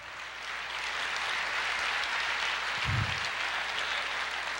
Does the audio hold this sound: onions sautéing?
no